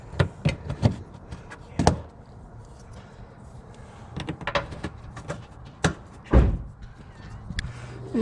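Plastic push-pin side markers on a 124 Spider or MX-5 ND snap into place as a series of sharp clicks and thunks, scattered irregularly and close by, some louder than others.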